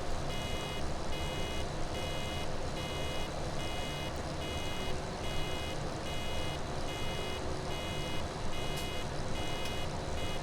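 Repeated electronic reversing beeps from a farm vehicle in Farming Simulator 17, pulsing in a steady rhythm over a constant engine drone for the full stretch, with no talking.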